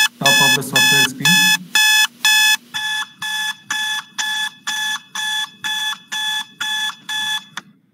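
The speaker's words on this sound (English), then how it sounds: "It shows visual and audio alarm." A substation hot-spot monitoring system's software alarm beeps in a steady pulsing pattern, about a dozen bright tonal bursts; the first few are louder, with a low hum underneath.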